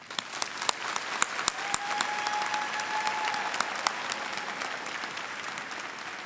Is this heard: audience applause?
yes